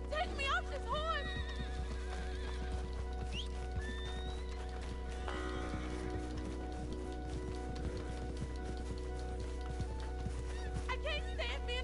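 A horse in the game Red Dead Redemption 2 whinnies in short, shrill bursts near the start and the end, with clip-clop and rain-like patter over a constant low drone while voices talk.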